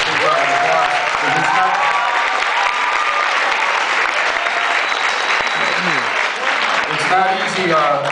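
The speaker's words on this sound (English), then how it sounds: "I'd like you guys to give them a big round of applause" Loud, dense applause from an audience at a high school donation ceremony, sustained throughout with scattered cheers and a voice talking over it.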